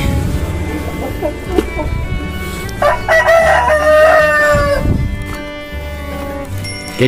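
Chickens about two and a half months old cluck and a rooster crows loudly as they are given fermented rice bran feed, the crow rising clearly over a busy, close flock.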